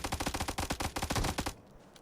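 Rapid automatic gunfire from a 4x-scoped weapon in PUBG Mobile, a dense string of close, loud shots for about a second and a half before cutting off abruptly into quiet.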